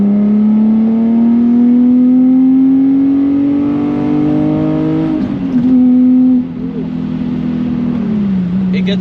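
Infiniti G37S coupe with a 330 hp V6 engine pulling hard through third gear, a loud steady climbing drone that rises in pitch, briefly dips at a shift or lift around the middle, then resumes and eases near the end.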